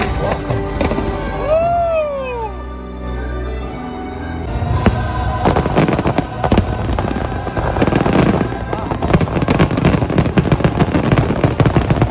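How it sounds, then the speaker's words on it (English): A fireworks show booms and crackles outdoors among a crowd, with a dense run of pops and bursts that grows louder and thicker over the second half. A whistling rocket is heard near the start, and people talk and cheer throughout. "We just watched the fireworks show."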